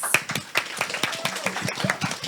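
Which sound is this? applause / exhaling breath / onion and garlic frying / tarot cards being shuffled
applause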